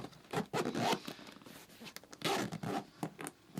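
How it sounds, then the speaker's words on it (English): A zipper on a camera bag pocket is dragged open and closed in several quick, close, raspy pulls with brief pauses between strokes, heard alone without talk. "these zippers need help"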